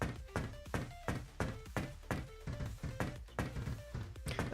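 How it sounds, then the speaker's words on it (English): Ground pound landing thuds in the video game Project Onyx, a steady run of dull, heavy thunks repeating about three times a second, close and fairly quiet. "I'm gonna go ground pound."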